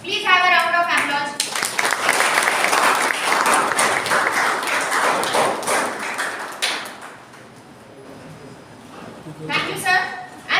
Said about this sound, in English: Please have a round of applause.